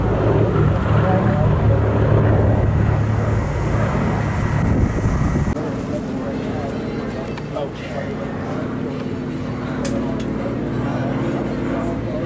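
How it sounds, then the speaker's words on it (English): A C-47 flies past at an air museum's WWII weekend with a broad propeller-engine roar. The sound swells, then thins out as the plane moves away, with crowd noise and voices around it. "There goes the C-47."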